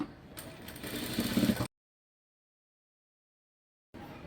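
A sewing machine stitches a fabric belt in a short, steady mechanical whir lasting under two seconds. It breaks off into silence, and a faint hum returns briefly at the end.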